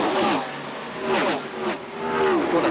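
NASCAR Winston Cup race cars at Talladega in 1988 hurtle past one after another, three loud roaring engine passes with rising and falling pitch, with a commentator's voice faintly beneath.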